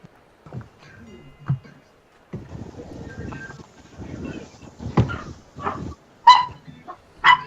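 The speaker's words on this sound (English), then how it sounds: "I heard an animal. It's the pub dog." A pub dog gives a few short barks and higher whimpers, scattered and irregular, with stretches of quiet murmuring voices in between.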